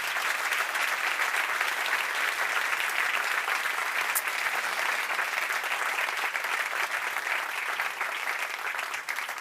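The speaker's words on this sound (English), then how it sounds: "please give a round of applause for all of them as well" Dense, steady applause from a large audience at a science summit award ceremony, holding at a full, even level for the whole stretch and easing only slightly at the very end.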